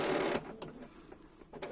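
A Bernina 780 sewing machine stitches around beads in short quiet bursts, a brief whirring run at the start followed by faint intermittent taps.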